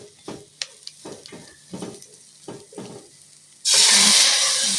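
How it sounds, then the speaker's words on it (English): Chopped tomato drops into a pan of chicken curry, setting off a loud, sudden burst of hissing sizzle that covers everything after a stretch of soft stirring and scraping. "Adding our tomato."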